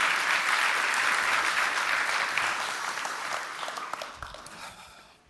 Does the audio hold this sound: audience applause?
yes